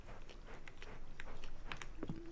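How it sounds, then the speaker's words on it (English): Someone chews rice balls close to the mic, with soft, moist bites and munching at low volume over a steady background hiss. "I'm sorry you have to listen to the sounds of me chewing and nothing else."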